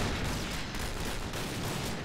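Rapid gunfire from the video game Point Blank rattles continuously in dense automatic bursts, fairly loud with no talk over it.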